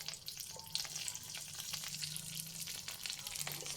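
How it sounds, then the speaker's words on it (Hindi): Garlic fries in melted butter over high flame with a continuous faint, crackly sizzle and a few soft stirring touches, with no voice. "So now I will put garlic and butter is melted."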